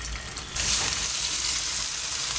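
Besan squares going into a pan of hot oil, a loud steady sizzle and crackle of frying that bursts up suddenly and holds close and continuous, with no talking.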